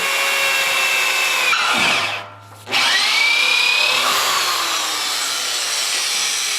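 A power drill with a step drill bit whines loudly and steadily, cutting out briefly partway through before grinding back in with a rising pitch, close up with no talking.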